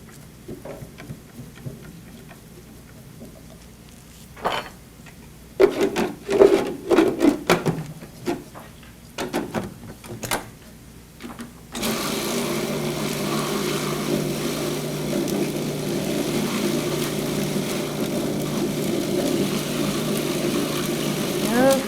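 A kitchen blender whirls steadily after a stretch of scraping and handling knocks, its broadband motor roar running continuously and fairly loud for the remaining ten seconds.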